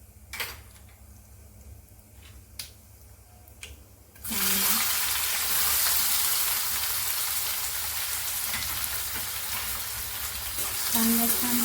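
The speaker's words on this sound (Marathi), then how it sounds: "कांदा छान परतून घ्यायचा आहे।" Chopped onion with cumin seeds sizzling in a spoonful of hot oil, a steady loud frying hiss that bursts in after a few quiet seconds with faint clicks, then holds with a brief swell near the end.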